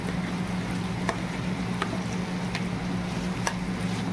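Tomato pieces for ridge gourd dal fry in a pan with a soft, steady sizzle and a low hum, punctuated by a few faint scraping taps at regular intervals.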